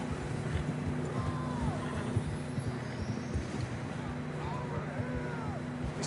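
Horses ridden in Red Dead Redemption 2, with a steady stream of soft hoof clip-clops under continuous ambient noise, moderately quiet and mid-distance.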